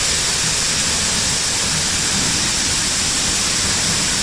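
A powerful waterfall pours into a cave basin, a constant broadband roar of crashing water, loud and near, unbroken throughout, with no speech.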